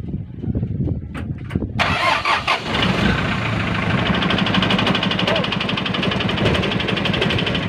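A car engine cranks with a few short starter bursts, then catches and settles into a steady mid-pitched idle after a starter repair, close and loud, with a person talking over the cranking.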